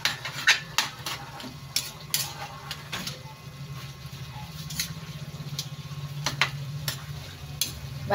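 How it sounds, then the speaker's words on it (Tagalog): Pork seasoned with fish sauce is stirred in a sizzling pan, with repeated scraping and clinking of a utensil against the pan over a soft, constant fry. "Pampalasan natin yung patis at halo-haloin lang muna natin."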